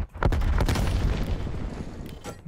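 A grenade detonates in a video game, giving a loud, nearby boom with a rolling, rumbling body that lingers for a couple of seconds amid scattered smaller pops.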